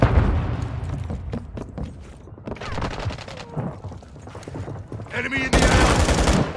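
Gunfire in Call of Duty: Modern Warfare 3 multiplayer Team Deathmatch, dense overlapping rifle and machine-gun bursts with sharp single cracks, close and loud, ending in a heavy sustained volley, with in-game voices shouting callouts.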